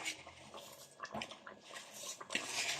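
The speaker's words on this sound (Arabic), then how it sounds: "خلاص هبدأ بقى انزل في المرحلة دي الرز بتاعي." Two cups of washed rice tipped into a pot of chicken for a one-pot chicken kabsa: a near, rushing, rattling pour with short louder bursts of grains hitting the pot, lasting about three seconds.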